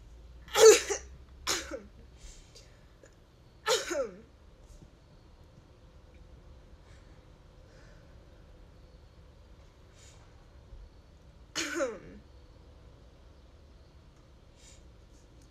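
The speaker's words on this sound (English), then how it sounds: "I'm drinking coffee, and I just choked on it" A person coughs after choking on coffee: a few sharp, close coughs in a quick cluster early on, another burst near four seconds and one more later, separated by quiet stretches.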